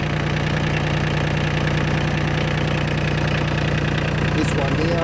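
A tractor engine idling: a steady, loud, low mechanical drone with a rhythmic knocking pulse, constant throughout, with someone talking over it.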